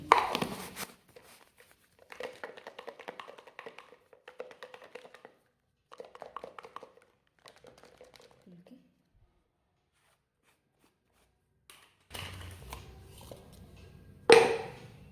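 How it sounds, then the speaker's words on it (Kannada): Folded paper slips dropped into a box and handled, heard as soft tapping and rustling in short bursts with quiet gaps, with a louder clatter at the end; a person talks in between. "ಈ ಡಬ್ಬದಾಗ ಚೀಟಿ ಹಾಕ್ತೀನಿ"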